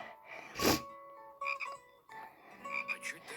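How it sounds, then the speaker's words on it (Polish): Frogs croak in a few separate bursts, one loud near call followed by quieter raspy croaks, with no talking. "w wodzie skakały zielone żaby"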